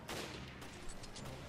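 Resident Evil Revelations gunfire aimed at parasites comes as a dense, fairly quiet wash of shots and noisy blasts, with a few brighter sharp cracks standing out toward the end.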